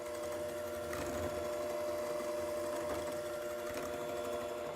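An electric mixer runs slowly through red velvet cupcake batter, giving a steady, even motor whir that holds at moderate volume throughout with no voices.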